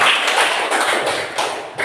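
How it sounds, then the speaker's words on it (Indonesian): Students clap for a young gymnast after a floor-exercise forward roll, a short burst of loud, uneven hand claps up close for about two seconds. "Oke, tepuk tangan Repan."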